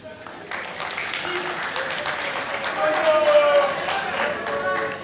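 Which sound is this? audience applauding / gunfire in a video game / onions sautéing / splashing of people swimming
audience applauding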